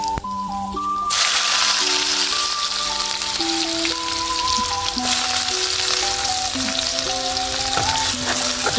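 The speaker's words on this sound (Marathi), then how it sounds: "हे फ्राय त्याला आपण कांद्याला थोडं गोल्डनमध्ये येऊ देऊ" Onion fries and crackles in hot oil with cumin and mustard seeds in a pan, a dense steady sizzle underneath melodic background music that begins after a brief opening.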